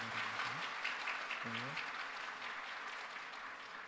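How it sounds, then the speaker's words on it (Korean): Church congregation claps after an infant baptism during a Sunday service, moderately loud applause that slowly thins, with a voice speaking briefly over it near the start. "박수로 축하해 주시기"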